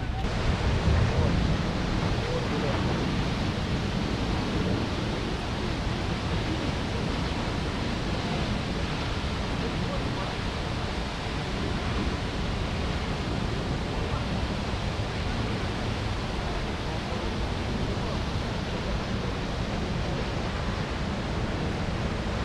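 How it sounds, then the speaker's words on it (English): Duden waterfalls in Turkey pouring into the Mediterranean Sea produce a steady, dense broadband roar mixed with surf and wind buffeting, continuous and loud throughout with no clear breaks. "right over there behind my shoulder is the waterfalls going into the Mediterranean"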